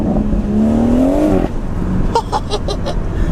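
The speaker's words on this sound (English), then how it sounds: "I'm getting a lot more sort of induction noise now as well, which is mega." A BMW M140i with its double resonator deleted pulls hard under acceleration, its engine note climbing steeply before a lift-off brings a few sharp crackles and pops from the exhaust, loud and close.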